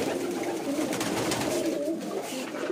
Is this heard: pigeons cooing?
yes